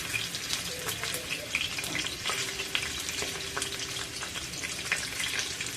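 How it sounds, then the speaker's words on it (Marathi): Poche frying in hot oil on an iron tawa over a gas flame, a steady crackling sizzle with small pops and scrapes throughout. "गॅसवर मी लोखंडी तवा ठेवलेला आहे त्यामध्ये तेल घालून घेऊया तर तेल तापलेलं आहे तर हे पोचे असे तेलामध्ये घालायचे आहेत"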